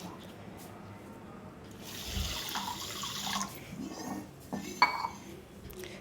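Rice soaking and being washed by hand in a bowl of water in a home kitchen for rice kheer, giving soft intermittent sloshing and swishing with a couple of small bumps against the container.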